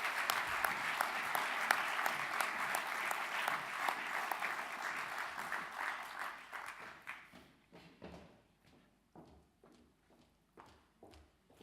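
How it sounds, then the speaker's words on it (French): Audience applause at an award ceremony, a dense steady round of clapping that thins out after about seven seconds into scattered individual claps before fading. "et on peut l'applaudir."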